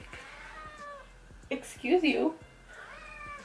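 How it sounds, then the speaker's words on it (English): A pet cat meows loudly and insistently close by in a home, a drawn-out cry followed by a second, shorter meow, while someone speaks briefly over a quiet room background. "Sorry, my cat is being super rude."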